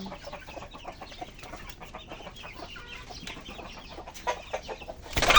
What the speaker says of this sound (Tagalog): Naglilimlim din na chicken.